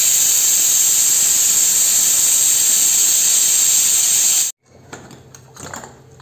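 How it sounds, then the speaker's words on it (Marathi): A kitchen pressure cooker vents steam in a loud, sharp, continuous hiss for over four seconds as its whistle weight is lifted off, then cuts out abruptly into quieter clinks and handling sounds. "मी आता गॅस बंद करते आणि कुकरचं शिट्टी खोलून घेते आता."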